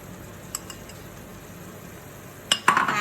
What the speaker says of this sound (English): Now I'm going to add the chopped tomatoes